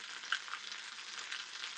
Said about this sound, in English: And you hear it sizzling right there